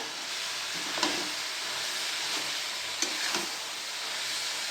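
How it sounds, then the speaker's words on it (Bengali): Chopped banana flower sizzles softly in a frying pan. A spatula scrapes and stirs it in a few separate strokes over a quiet, steady hiss. "আর একটু নেড়ে চেড়ে নিলাম।"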